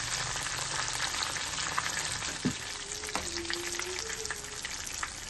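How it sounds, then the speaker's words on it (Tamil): Chicken lollipops deep frying in hot oil give a steady, close crackling sizzle throughout, with a brief clatter near the middle and a faint high tonal squeak drawn out afterward. "இது இன்னும் ஒரு 5 மினிட்ஸ் நல்லா ரோஸ்ட் ஆகணும்"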